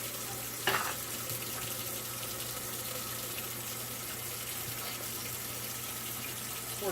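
A bowl being readied with warm water and oxygenated cleaner for washing Santa figurines, heard as a steady close sloshing, trickling wash with a brief knock near the start and no talk.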